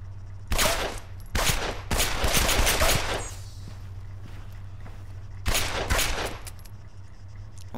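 Bursts of rapid automatic gunfire in the military shooter game Arma 3, loud and close, firing in several volleys separated by short pauses over a steady low background hum.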